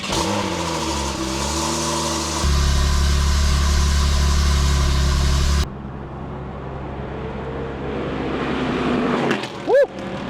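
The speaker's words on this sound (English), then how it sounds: "I'm putting the exhaust on. That's way too loud." A straight-piped Porsche 911 engine runs loud and close, its exhaust droning with a rise in pitch, then dropping to a rougher, quieter rumble with passing road noise near the end.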